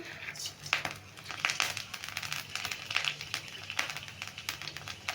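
Dried chilli and panch phoron spices crackle and spit in hot oil, a steady busy sizzle of fine pops and crinkles throughout, close and fairly quiet.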